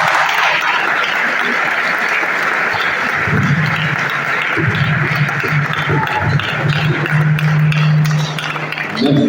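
An audience claps loudly and continuously after a political address in Congo. The applause rolls on without pause while a voice speaks underneath it.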